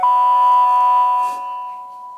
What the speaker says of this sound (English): I personally love the way that the alarm sounds